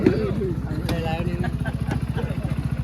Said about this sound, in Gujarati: અમારો કાલુ બાઇક નવું લાવી લીધું છે જો